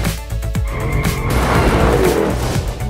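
A 2020 C8 Corvette and a Dodge Demon launch side by side in a drag race, loud roaring engines with tire squeal swelling over three seconds.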